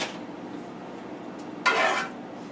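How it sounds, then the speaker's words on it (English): A utensil scraping and scooping sauce from a pan, a quiet background hiss with a faint tap, then one brief, louder scrape near the end. "And then we're going to scoop up the sauce"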